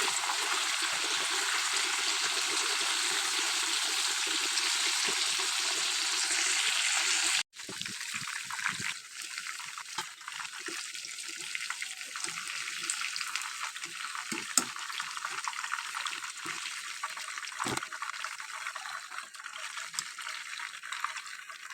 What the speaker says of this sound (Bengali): এবার এপিঠ ওপিঠ ভালো করে ভেজে নেব